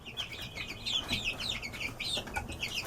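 Chickens in a coop that also holds a Buff Orpington rooster cluck and chatter in quick overlapping bursts, fairly close but soft, with a busy, irregular rhythm throughout.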